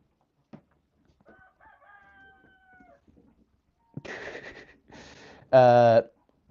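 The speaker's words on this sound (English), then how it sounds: "this is a chicken that you can see is very, very friendly" A friendly backyard chicken from a flock clucks and calls, with a faint, brief vocal early on and a loud, harmonic crow-like squawk near the end, alone without talk.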